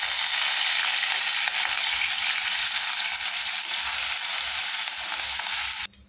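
Cardamom, ginger and green chillies frying in hot oil in a kadai, giving a steady, dense crackling sizzle that holds close and loud for about six seconds before cutting off abruptly.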